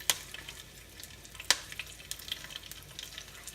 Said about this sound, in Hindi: बैंगन को हम 1 से 2 मिनट स्लो फ्लेम पे कुक करेंगे